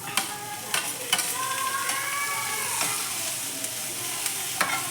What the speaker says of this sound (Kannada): ಸ್ವಲ್ಪ ಬೆಳ್ಳುಳ್ಳಿ ಮತ್ತು ಶುಂಠಿ ಹಾಗೆ ಉದ್ದದ್ದಾಗ ಕಟ್ ಮಾಡ್ಕೊಂಡಿರೋವಂಥ ದೊಡ್ಡದು ಒಂದು ಟೊಮೆಟೊ ಟೊಮೆಟೊ ಕೂಡ ಹಾಕ್ಕೊಂಡು ಹುರ್ಕೋಬೇಕು